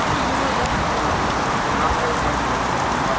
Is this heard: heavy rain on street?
yes